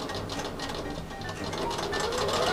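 A sewing machine back tacking a seam on t-shirt jersey fabric: steady fast mechanical whirring and chattering stitches, close and continuous throughout.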